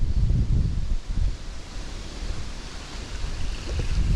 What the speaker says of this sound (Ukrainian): вітер в лице дуже важко.